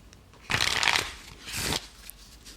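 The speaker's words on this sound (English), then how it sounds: "shuffling some cards." Playing cards shuffled by hand during a tabletop roleplaying game, two quick riffling bursts close to the microphone, the first longer and louder, with no talk over them.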